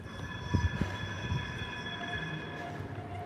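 A tram rolls past close by on a public street, a steady rumble with drawn-out tonal wheel squeal or hum and a few thumps early on, moderately loud with no talking.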